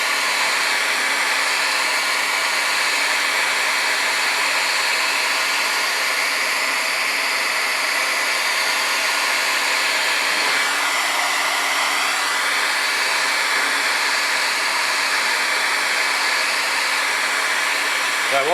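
Continuous roaring whoosh of a heat gun warming an engine piston to free stuck rings, loud and steady throughout with a slight shift in tone midway as the nozzle moves.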